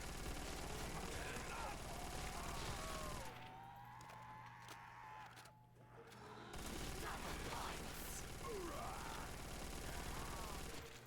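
MG42 machine gun fire in Call of Duty: World at War custom zombies, a dense rapid burst of gunfire that drops away briefly in the middle, then resumes, loud and continuous, with a faint voice underneath.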